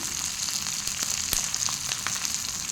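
Curry leaves and four dried red chillies frying in hot oil for a curry leaf gravy, a steady close crackling sizzle with a few sharp pops, no talk.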